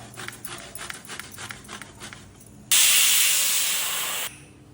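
A pressure cooker lets off a loud, sustained steam whistle, a bright hiss lasting under two seconds after some quieter kitchen sounds, during preparation of mango pulihora.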